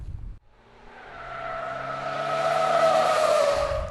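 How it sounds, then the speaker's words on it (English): A car drives through a curve on a wet tire test course until its tires hydroplane, its engine and tire noise swelling into a rising whine and rushing hiss, with no talking. "eventually the tires hydroplane and the car goes straight."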